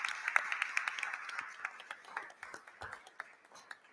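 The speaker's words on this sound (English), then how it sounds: "So I think that deserves a round of applause." Sparse, faint clapping from a small audience at a school Board of Education meeting, a few scattered hand claps trailing off over several seconds.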